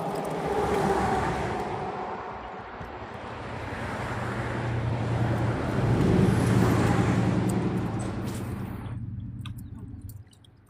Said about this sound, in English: It's a lot of boats out here on the water.